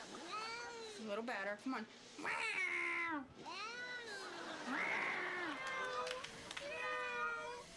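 Drawn-out meows alternating with a person's voice; a human seems to imitate meowing at times, and the cat cries back several times nearby.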